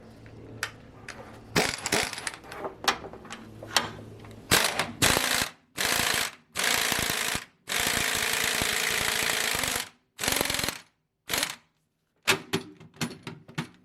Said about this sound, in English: Excuse the air ratchet.